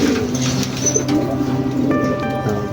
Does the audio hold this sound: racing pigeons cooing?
yes